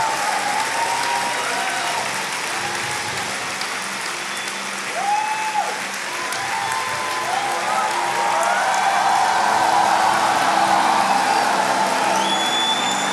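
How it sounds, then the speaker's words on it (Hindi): A church congregation claps together in a broad, sustained wash of applause with some voices calling out over it, growing slightly louder toward the end. "Lift up your hands and clap."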